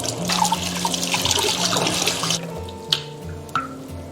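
Running water splashes steadily from a tap while two cuttlefish are rinsed clean in a kitchen sink, with a continuous broadband gush and a few small clinks near the end.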